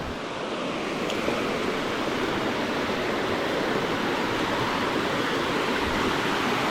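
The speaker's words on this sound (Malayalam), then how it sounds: "ചെറിയൊരു പാറയുടെ മേളിക്കൂടെ ഇങ്ങനെ ഒഴുകി പോകുന്നത്" A continuous rush of water spills over a small rock nearby at a low-flow waterfall near Malayattoor, a steady broadband hiss with no voices or pauses.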